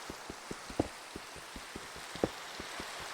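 Rain falling in Minecraft, a soft steady hiss with quick regular patters of drops and a couple of sharper splashes, faint and with no voices.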